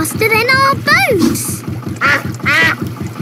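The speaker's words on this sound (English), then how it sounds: "Mrs. Duck is going faster than our boat." Cartoon duck quacking in a Peppa Pig boat-race scene, several nasal quacks over a steady puttering boat motor, with a character's voice talking between them.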